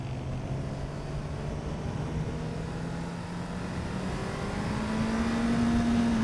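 A motorcycle engine on a test ride drones at high RPM, its pitch climbing steadily under continuous wind and road noise, loud and close throughout.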